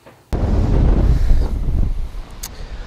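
Wind gusting across a lake during fall musky fishing from a boat in shallow weeds, a loud roaring rush on the microphone that starts abruptly and holds steady before easing off, with no talking.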